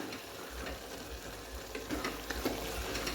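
Fenugreek leaves cooking in a pan give a soft, steady sizzle with faint stirring and ticking underneath, quiet and close, with no talk.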